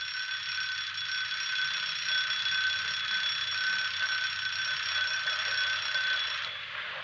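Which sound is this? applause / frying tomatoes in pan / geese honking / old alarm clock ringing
old alarm clock ringing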